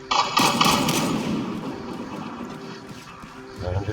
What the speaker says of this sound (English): And it's somebody shooting me.